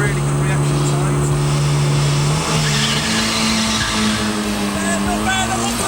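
A race car launches off the line in a drag race, its engine roaring loud and close with a steady high whine that shifts at a gear change, along with faint tire noise.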